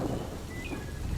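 Heavy rain pours steadily in an animated story, with a low rumble of thunder beneath the dense hiss, loud and continuous with no voices.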